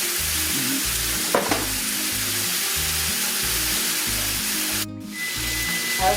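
Montreal-crusted steak sears in a skillet over medium-high heat with a loud, continuous hiss, one brief clatter partway through, and background music playing underneath.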